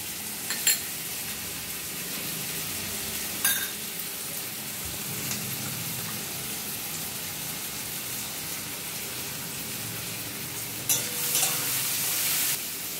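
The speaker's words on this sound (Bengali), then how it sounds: "পেঁয়াজগুলো ওদিকে ভাজা হতে থাক" Onions fry in a pan with a steady close sizzle, broken by a few brief clinks and stirring scrapes, with no voices.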